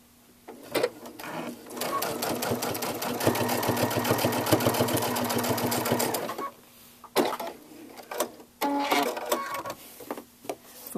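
Brother DreamWeaver sewing machine with a MuVit foot stitching through six folded layers of thick fabric, a loud steady mechanical rattle of needle strokes running for several seconds, then stopping and restarting in short bursts.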